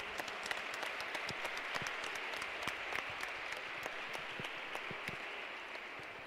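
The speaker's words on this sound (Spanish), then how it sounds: "Un fuerte aplauso." Steady, fairly faint applause from an audience at a final of an indoor archery competition, continuous crackling claps with a few sharper individual claps standing out throughout.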